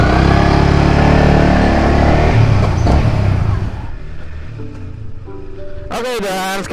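A Yamaha XSR 155 motorcycle engine revs loudly, then settles to a quieter, steady running hum during a test ride, with a voice speaking briefly at the end.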